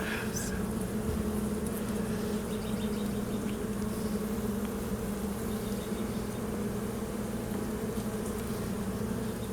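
Honey bees buzz steadily inside an open hive during an inspection, a dense, continuous close drone with faint handling noises and occasional muffled speech beneath.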